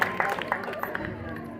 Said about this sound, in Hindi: भाई जोरदार तालियों से स्वागत करें।